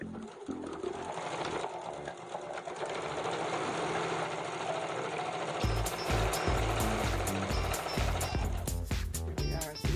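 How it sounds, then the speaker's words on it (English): A sewing machine stitches pieces of fabric placed right sides together for a jelly roll blanket bag, running in a steady close whirring rhythm that speeds up into a louder, harder chatter partway through. "I just put them right sides together, and when I'm done stitching this, I'll have 8 together."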